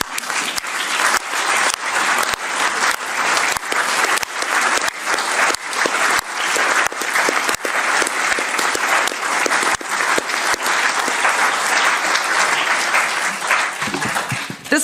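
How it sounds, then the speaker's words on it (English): Sustained, loud applause from a crowd, dense steady clapping without a break for the whole stretch, with no talk over it. "This applause was for you, the people"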